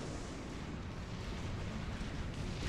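Rapid naval fire in the strategy game Forged Alliance Forever, with frigate guns firing very fast, forms a dense, continuous rumble of overlapping booms that stays loud and steady throughout.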